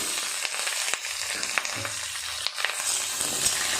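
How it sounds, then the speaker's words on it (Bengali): Potato and pointed gourd pieces frying together in oil, a loud, continuous close sizzle with sharp pops and crackles while they are stirred and turned. "আলু আর পটল একসাথে ভালো করে আবার ভেজে নেব"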